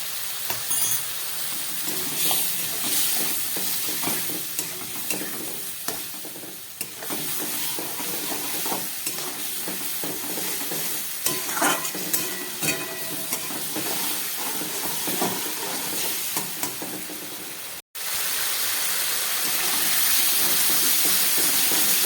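Ground spices and half a spoon of cumin powder fry in a little water in a hot pan, giving a steady, close sizzle with scraping stir strokes throughout, briefly cut off near the end before resuming.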